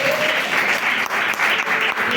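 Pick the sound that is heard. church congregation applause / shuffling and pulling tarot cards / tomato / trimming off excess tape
church congregation applause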